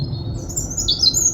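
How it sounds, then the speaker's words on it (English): A robin sings thin, high warbling phrases outdoors in a fenced off-grid chicken-keeping spot, faint against a steady low background rumble. "It's the robin giving you an amazing song."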